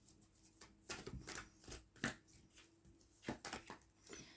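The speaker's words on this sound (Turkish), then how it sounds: "Şöyle bir kart çekelim." Tarot cards are drawn from a deck: soft, close shuffling and sliding of card stock in several short bursts, quiet overall, with no talking.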